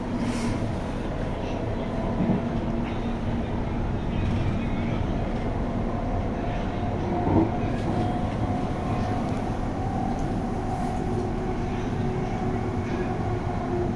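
Steady rumble and hum of a moving South Western Railway class 701 electric passenger train between Windsor and London Waterloo, heard from inside the carriage, constant and even, with soft voices faintly in the background.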